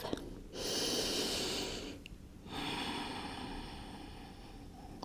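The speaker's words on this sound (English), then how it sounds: "Take a breath." Slow, deep yoga breaths during a hip stretch, heard as two long, breathy rushes of air close to the mic, separated by a brief quiet pause.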